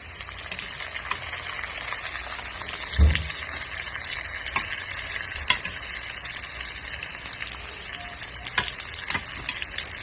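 Tomato sautés in a frying pan for ginisang labanos, giving a steady, close sizzle with a brief thump as it drops in and scattered crackles and stirring sounds throughout.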